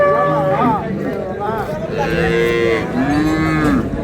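Several loud, drawn-out moos from a dairy cow at Ambari cattle market, Dinajpur, close by, one after another with short gaps between them.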